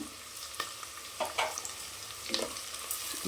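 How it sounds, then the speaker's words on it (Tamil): Masala, chilli powder, turmeric and salt sauté in hot oil in a pan for mint rice, a steady quiet sizzle with occasional stirring scrapes and clicks, heard alone. "நல்லா இந்த எண்ணெயிலே வதக்கிவிடுங்க இதை நல்லா இந்த எண்ணெயிலே வதக்கலாம்"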